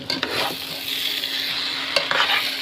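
Meat is tipped into biryani rice in a pot and stirred, with scraping strokes and a couple of sharp clinks over a steady background sizzle, close and fairly loud.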